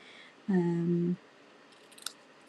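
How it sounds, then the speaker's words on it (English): A pair of ribbon scissors gives a single short, squeaky, tonal cut lasting under a second, followed by faint clicks in quiet surroundings. "Ribbon scissors."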